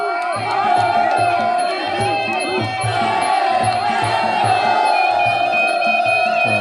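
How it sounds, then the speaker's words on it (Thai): Loud crowd cheering at a Muay Thai boxing match, a dense continuous roar of fans from both corners with rhythmic pulsing chants and a ringside commentator talking over it throughout. "เสียงเชียร์ดังสองฝั่งสองมุมเลยครั"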